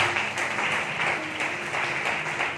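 A church congregation claps together during a Sunday service, a steady, dense wash of applause that holds at an even level for its whole length with no speech over it.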